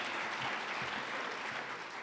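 An audience at a conservative summit claps in a dense, steady wash of applause that stays even and fairly full throughout, with no one speaking over it.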